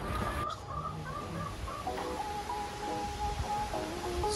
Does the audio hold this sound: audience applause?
no